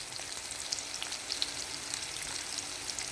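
Sirukeerai greens with green chillies sautéing in a pan: a soft, steady sizzle with scattered tiny crackles, heard alone at low volume.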